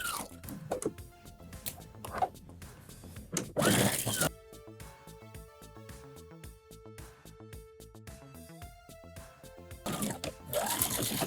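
A sewing machine stitches a garment seam while tailoring clothes along princess lines, with rapid mechanical runs of stitching between bursts of handling noise, fairly quiet and close.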